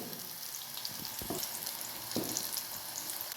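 Chili pepper bhaji in gram flour batter frying in hot oil, a steady faint sizzle with a few crackles and spatula clicks as the fritters are turned.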